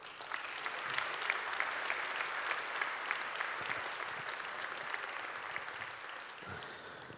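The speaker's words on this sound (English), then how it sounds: "let's give them one more time warm applause" Warm audience applause fills a conference hall, a dense, steady patter of many hands clapping that holds evenly for about seven seconds at a modest distance, with no voices over it.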